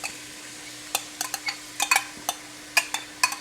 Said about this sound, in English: I can hear the little sizzle